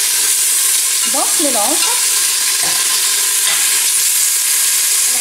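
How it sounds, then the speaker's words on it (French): Pieces of meat browning in a hot pan give a loud, constant sizzle and hiss, with a few stirring scrapes and a voice speaking briefly over it near the start. "Je mets mes morceaux de viande. Et je fais colorer tout ça"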